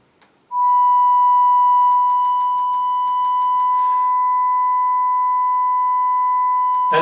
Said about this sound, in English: Now up to 975 hertz.